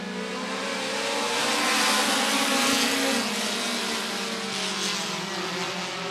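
Short-track race cars roar around Rockford Speedway during a feature race, a loud, continuous blend of engines that swells and fades slightly as the pack passes, with no talking.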